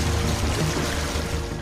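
Flood water released from the Durgapur barrage pours and rushes in a loud, continuous, dense roar.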